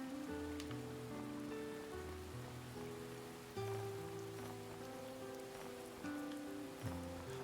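Steady rain patters in the Harvestella video game on the Switch, a continuous soft hiss layered under gentle sustained musical tones that shift between notes, with no one talking.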